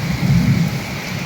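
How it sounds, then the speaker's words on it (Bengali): Heavy evening rain pours over Uttara in Dhaka with a steady dense hiss and a low rumbling swell, loud and continuous with no voices. "প্রচুর পরিমাণের বৃষ্টি হচ্ছে এখন ঢাকা উত্তরায়।"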